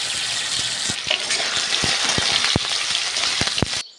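Potatoes fry in a pan of hot oil, giving a steady, close, broadband sizzle with scattered sharp pops and crackles throughout, then stopping abruptly near the end.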